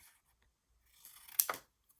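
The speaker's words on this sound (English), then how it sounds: "So I'm just going to cut off the little squares." Scissors snip through paper to cut little squares off a print, a few quiet close crisp cuts after near silence.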